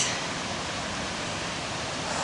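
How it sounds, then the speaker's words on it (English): Russell Creek, a river in Oregon running through a burned forest area, rushes in a steady, even roar of flowing water that continues unbroken and fairly close. "That's Russell Creek."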